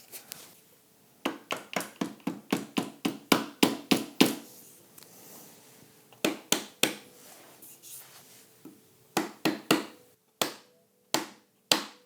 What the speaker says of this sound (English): Just needs a couple of taps from a rubber mallet.